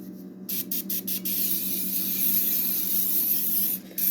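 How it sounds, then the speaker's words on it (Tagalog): Cooking oil hisses from a spray bottle: a few quick separate squirts, then one long, steady close-up spray that stops near the end. "Ito pang spray. 2-in-1. Spray, spray, spray."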